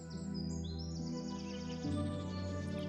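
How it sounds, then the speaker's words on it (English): Birds chirp and trill in a sunlit garden ringed by trees and roses, a few thin rising and falling calls drifting over a steady, soft hum that continues throughout. "You can hear the birds"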